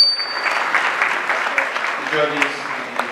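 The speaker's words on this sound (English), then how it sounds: "Please give them all a round of applause" Audience applause at an annual university medical students' public lecture: a steady, dense wash of clapping filling the whole stretch, with a voice speaking over the last part.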